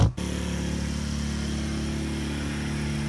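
Small portable hot water system pump running as it moves water from a bucket, a steady continuous motor hum with a constant drone that starts abruptly and holds at an even level throughout.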